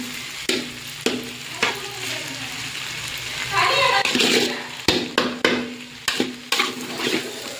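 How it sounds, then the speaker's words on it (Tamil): Maggi noodles being stirred as they fry in a pan, with a steady close sizzle and repeated sharp scrapes and clinks of the spoon against the pan. "இதே மாதிரியே கிளறிக்கிட்டே இருக்கணும் ஃப்ரெண்ட்ஸ்."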